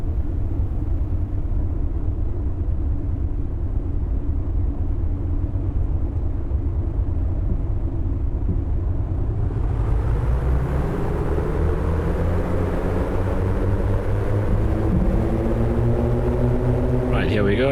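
Steady droning engine rumble of a Piper PA-60 Aerostar twin-engine aircraft in MSFS 2024 with props and mixture full, building into a rising, brighter roar as the takeoff roll begins. Someone talks over it.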